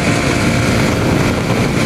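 Motorbike ridden at speed, around 90, giving a loud, continuous engine and wind roar that is close and steady throughout, with no talking.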